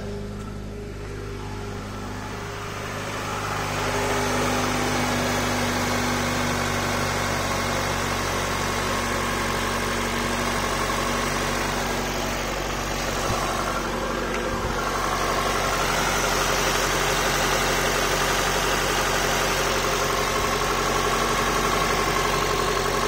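A 2009 Acura TSX engine idles steadily just after a fuel injector replacement, a continuous mid-pitched hum with a rough vibration, near and loud, running on its own with no talk for over twenty seconds.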